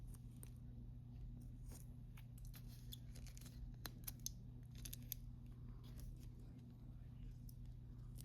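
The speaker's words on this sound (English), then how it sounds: "I'm going to cut this in a slant" Scissors snip at a slant through craft material while painting bulbs, a few faint crisp cuts over a steady low hum, close but quiet.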